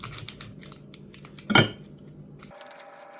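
A knife cuts into a tough, thick-skinned onion with a loud crunchy crack midway, amid light clicks of the blade on a board, then a quieter hiss.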